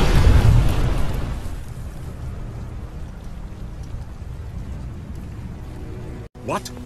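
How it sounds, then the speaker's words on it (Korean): A loud explosion from the Mortal Kombat vs. DC Universe video game bursts at the start and rumbles away into a low, noisy fade, with a narrator speaking over it. "다크사이드는 폭발과 함께 사라지고"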